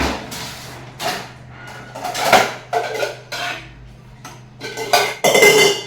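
Pots and pans clatter and clink on a home kitchen stove as dal and rice are set to cook, a series of close, intermittent metallic knocks and scrapes spread across the moment.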